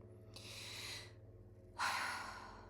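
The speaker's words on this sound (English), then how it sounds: "Taking a breath." Two close, audible breaths through the mouth: a long inhale, a pause, then a stronger, louder exhale or second breath, alone over a faint steady hum.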